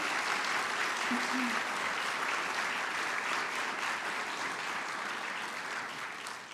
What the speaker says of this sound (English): So I would like to give a grand round of applause.